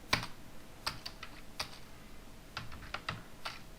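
Keys clack on a computer keyboard in a quiet room, a scattered run of light, close taps with short pauses between strokes and no talking.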